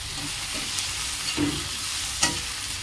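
Green chilies and tomatoes fry in a pan for a rohu fish curry, with a steady sizzle and a few soft scrapes as they are stirred.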